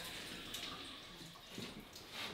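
Water runs steadily from a faucet during a check of the hot and cold taps in a newly plumbed house under contractor inspection, a continuous splashing flow with small drips, close and moderately loud.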